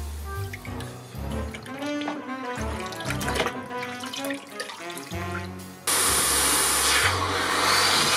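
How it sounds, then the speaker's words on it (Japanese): Disassembled brake caliper parts from a Kawasaki W800 motorcycle, coated in brake fluid, are washed in water. Music plays first, then a steady rush of running water starts suddenly and continues to the end. "水につけて洗います。"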